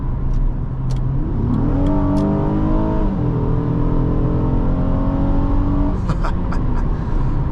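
A 2010 Acura MDX 3.7L engine revs up loudly through rising gears selected with paddle shifters, each shift dropping the pitch before climbing again, close and continuous.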